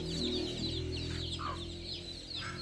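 Hens cluck close by in a Punjabi family's farmyard in Pakistan, giving a run of fairly quiet, overlapping clucks and short chirps over a low background hum.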